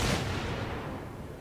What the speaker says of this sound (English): Our secondaries are blamming away at each other.